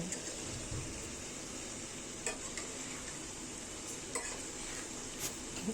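Ingredients sauté in a pan in a home kitchen with a soft, steady sizzle, punctuated by a few quiet clinks of a utensil against the pan while being stirred.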